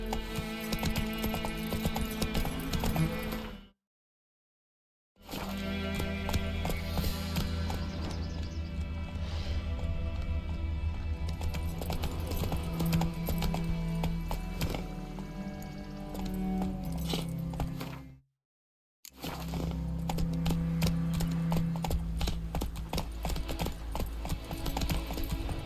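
Steady rhythmic hoofbeats of the horse Roach in The Witcher 3, clip-clopping continuously with game music or ambience underneath, broken by two brief silent gaps.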